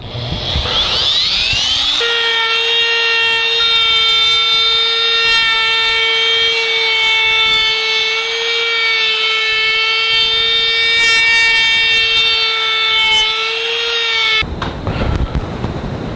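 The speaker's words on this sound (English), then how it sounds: "this is best done with a small router or even a full-size router, but a small quarter-inch radius bit, round over" A small router fitted with a quarter-inch round-over bit cuts wood edges for a gun rack, holding a loud, steady high-pitched whine for about twelve seconds before cutting off abruptly.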